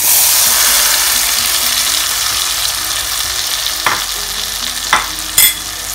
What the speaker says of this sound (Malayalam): നമുക്ക് അരിഞ്ഞ് വെച്ചിട്ടുള്ള മാങ്ങ ഇതിലേക്ക് ചേർക്കാം.